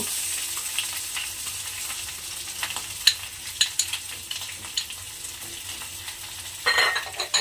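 Soaked, ground chana dal paste sizzles steadily in a pan while a spoon stirs and scrapes it in irregular clicks, with the frying growing louder toward the end.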